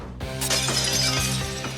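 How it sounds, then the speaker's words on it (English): Glass shatters from an amplified tone played through a speaker: a sustained harmonic tone is broken by a sudden bright crash and a spray of tinkling fragments, loud and close, all within under two seconds. "So the practiced professional can use amplification to smash glass."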